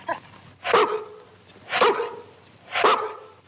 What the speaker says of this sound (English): Be a good dog now.